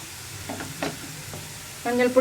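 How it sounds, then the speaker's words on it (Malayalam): Onions sautéing in a pan with half a teaspoon of turmeric powder over medium flame for a mushroom pepper roast, heard as faint scattered stirring scrapes that give way near the end to a louder burst of sizzling. "അപ്പോൾ ഞാനിതൊന്ന് വഴറ്റിയെടുക്കട്ടെ."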